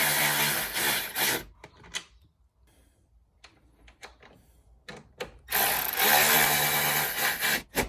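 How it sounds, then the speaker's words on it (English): Post bolts being tightened on a Jeep JLU coolant reservoir with a power driver: two loud whirring bursts at start and end, with quieter clicks and taps of handling between. "You can reinstall these post bolts."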